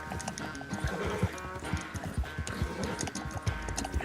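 A horse galloping in the video game Red Dead Redemption 2, with rapid rhythmic hoofbeats thudding steadily over a soft background, fairly quiet overall.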